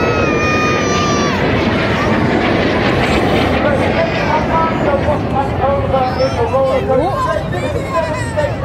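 Aerobatic team jets roar overhead at the Southport air show, a loud, continuous engine rush under a crowd's babble and a commentator talking throughout.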